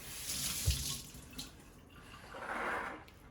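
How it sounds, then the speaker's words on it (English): Water runs from a kitchen tap in soft, brief bursts as hands are wetted during homemade firm rice tofu making, a faint splashing rush that swells near the end. "I will actually kind of wet my hands, or maybe wet the spatula"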